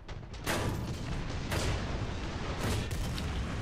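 Tank cannon fire from a Churchill Mk. III battle in War Thunder: three heavy, loud booming shots at roughly one-second intervals over a constant rumbling battlefield background, with no talk.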